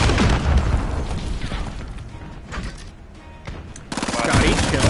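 Video game combat, with RPG rocket fire and explosions: dense, loud bursts of gunfire and booms crowd the whole stretch, with a brief lull near the middle before another heavy blast, and voices mixed in.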